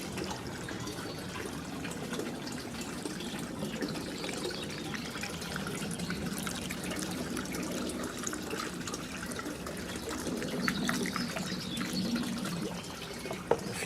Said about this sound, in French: ce qu'il faut faire c'est la filtrer, donc juste avec un petit tamis.